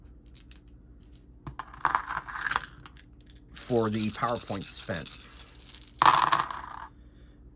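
Five dice tumble and clatter across a surface for a tabletop RPG casting roll, in two close bursts of rattling, with a person speaking briefly between them.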